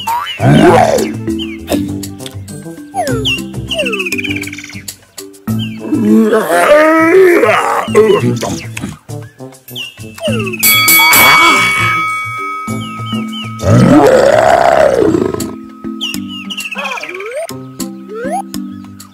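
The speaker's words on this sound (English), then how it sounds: "Leon the lion sure looks cute and cuddly." A cartoon lion in a kids' safari animal-feeding game gives several loud roars and grunts in bursts between pauses, mixed with bright game jingles and chimes.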